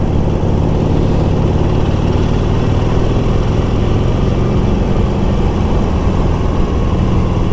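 A 2020 Harley-Davidson Sportster Forty-Eight engine runs in a steady, loud, continuous drone that sounds like it is cruising while ridden, with no voices over it.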